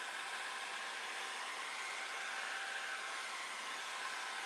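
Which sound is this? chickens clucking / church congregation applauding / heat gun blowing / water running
heat gun blowing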